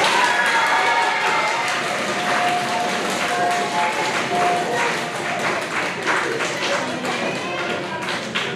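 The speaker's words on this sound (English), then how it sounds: "All right, please join me in a round of applause for this group." An audience at a 7th grade school awards ceremony gives a long, steady round of applause, many hands clapping in a dense, even patter that fills the room for the whole stretch, with faint crowd murmur beneath.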